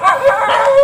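A dog in a barangay in Bohol gives a short, loud yelping howl, a single close whining cry lasting under a second, with no talk over it.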